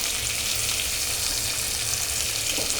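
Chopped onion fries in a pan of hot oil with salt mixed in, giving a steady, dense sizzle that holds close and even throughout, with no voices over it.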